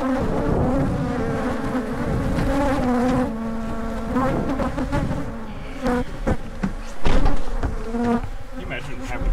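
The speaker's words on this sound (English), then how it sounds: "Do not keep bees." Bees buzz densely and continuously close by, a wavering swarm drone with some brief bumps and knocks.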